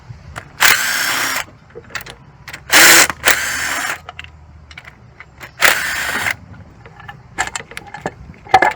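Power tool zipping out engine valve cover bolts, three or four short loud bursts close by, with clinks and rattles of metal in between.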